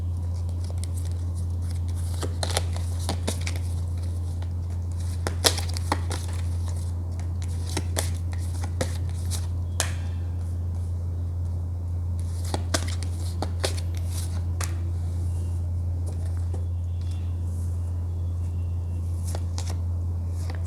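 Tarot cards are shuffled with soft, repeated riffling and flicking clicks close by, set over a steady low hum in a quiet room.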